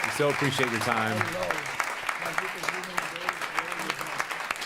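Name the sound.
audience applause for panelists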